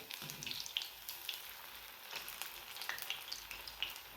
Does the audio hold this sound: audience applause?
no